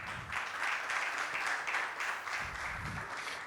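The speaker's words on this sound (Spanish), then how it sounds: "Así que pido un fuerte aplauso para el ingeniero." Audience applause at an energy and utility event in Paraguay, honoring the engineer who heads ANDE; a moderate, steady wash of clapping runs throughout with some low murmur underneath.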